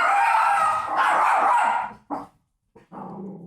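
A small dog yaps and barks in quick bursts, loud and close, then falls briefly silent before a couple more short barks.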